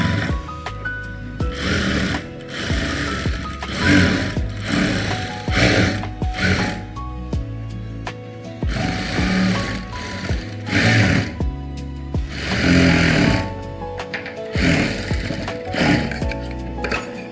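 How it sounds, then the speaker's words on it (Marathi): Sewing machine stitching a blouse sleeve lining, running in loud, close bursts separated by short pauses and mechanical clicks as the fabric is handled; no one talks. "आता ही जी आपली बाही कट केलेली होती अस्तराची, त्यानुसार आपल्याला शिलाई मारायची आणि ही बाही रेडी करून घ्यायची।"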